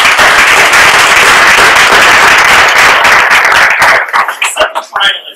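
An audience at a data awards event applauds a finalist, loud dense clapping close to the microphone that thins into a few scattered claps before ending.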